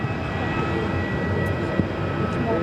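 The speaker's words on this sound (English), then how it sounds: "Delta A330 heading down for a takeoff on 7 at left" A Delta Airbus A330 jet rolls for takeoff at Phoenix airport, a steady broadband engine roar holding at constant loudness throughout, with no voices.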